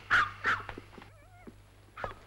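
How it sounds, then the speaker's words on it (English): At night a dog gives two sharp barks, followed by a thin, wavering whimper and another short yip, each fairly close and loud against a quiet background. "I want that blasted dog to shut up"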